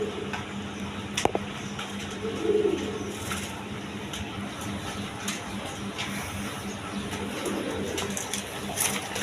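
A pair of Koka pigeons, a male and a female, coo softly at close range, the low calls rising now and then over a steady background hum and scattered clicks.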